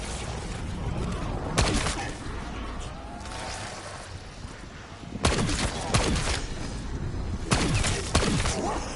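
Bursts of gunfire in the Black Ops 6 Zombies video game: several sharp volleys break out at intervals over a quieter game background, each burst made of rapid overlapping shots, moderately loud.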